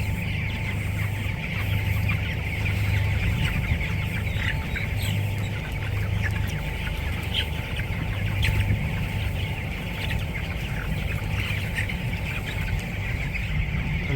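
Chickens in a poultry shed cluck continuously and densely under a steady broadband hum, with no talk over them.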